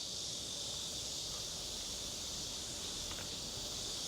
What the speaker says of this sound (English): I don't think I'm gonna escape the cicadas.